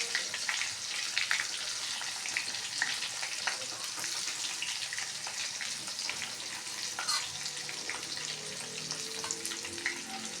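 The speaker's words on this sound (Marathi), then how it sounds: "गॅस कमी करून आपल्याला सर्व कारले आपल्या तेलामध्ये सोडायचे आहेत हळूहळू" Bitter gourds frying in oil in a pan over a lowered gas flame, a steady crackling sizzle with light stirring and scraping, close and continuous throughout, with no voices.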